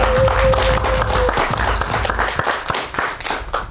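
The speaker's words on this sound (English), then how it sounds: "Everybody give a round of applause for Commander Brown." A crowd claps loudly in dense applause that thins out and fades over a few seconds, with a brief tone at the start.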